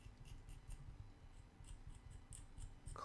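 Hobby scissors or clippers trimming a plastic model kit part for a Gue'Ron'Vesa kitbash, giving a steady run of soft, close snips and scraping clicks with no talk.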